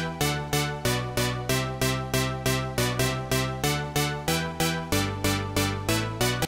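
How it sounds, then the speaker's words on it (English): A synthesizer patch made in Ableton plays a steady, rhythmic sequence of bright plucked notes with repeating decaying attacks, about three per second, loud and alone with no voices. "I've got this synth sound, which sounds like this."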